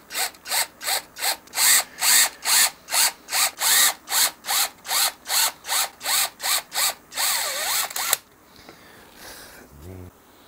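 A tool chamfers the tuner holes in a wooden guitar headstock with a rhythmic run of about twenty loud, close grinding cuts, each a short scraping burst. It stops abruptly near the end, followed by quieter handling noise.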